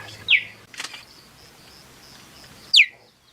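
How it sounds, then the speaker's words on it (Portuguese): A cheetah gives two sharp, high, bird-like chirps, a few seconds apart, close and clear against a quiet background. "Um dos sons mais característicos do guepardo é o chirp, que se assemelha ao canto de um pássaro."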